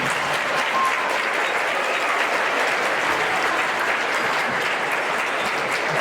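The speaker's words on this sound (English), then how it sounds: "Give a round of applause for them." Audience at a middle school instrumental music concert applauding the percussion section, a thick, continuous patter of many hands clapping at steady volume throughout, with no voices over it.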